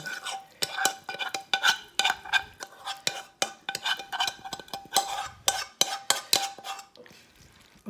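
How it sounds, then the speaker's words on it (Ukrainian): A metal spoon scrapes and clinks rhythmically against a pot while spaghetti is stirred, in quick repeated strokes up close that ease off at the end. "беремо ложку і це все вимішуємо"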